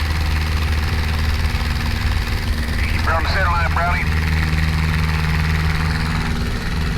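A Luscombe light aircraft's propeller engine drones steadily at full power through the takeoff roll, a constant loud hum with a brief voice speaking over it partway through.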